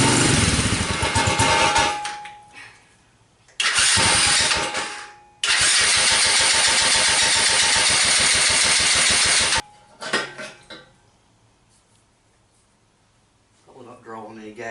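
A Chinese four-wheeler ATV engine cranks loudly in several long bursts of rhythmic starter churning separated by pauses, without catching, and people talk in the gaps.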